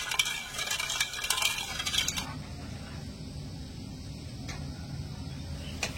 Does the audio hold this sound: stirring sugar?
yes